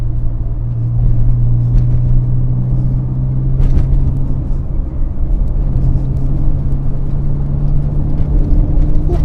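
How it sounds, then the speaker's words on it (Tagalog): A Mitsubishi Galant's aftermarket exhaust rumbles while driving in traffic on Ortigas Extension, a loud, deep, steady droning hum heard from inside the car, with no talking. "Ganda ng tambucho. Ganda ng tunog yan, no?"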